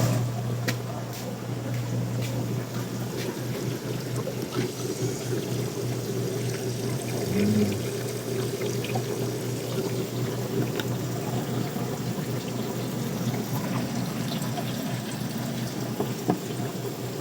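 Water flushes through a mud crab condo system as a steady, moderate rushing and pouring wash with a faint low hum underneath, continuous throughout and with no talk.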